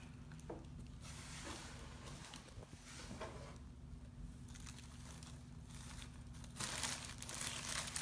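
Quiet, continuous crinkling of brown paper being crumpled, with irregular rustles that grow louder toward the end.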